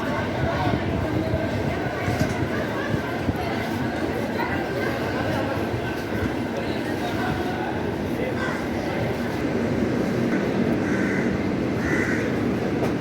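At Kolkata station, the Bikaner–Kolkata Pratap Express stands on the platform amid a constant roar of station noise and rail rumble, with a crowd chattering throughout.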